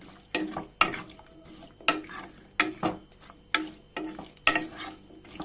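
Raw banana curry with water being stirred in a pot in a Kerala kitchen, heard as a regular run of about eight close scraping and clinking strokes with quiet pauses between them.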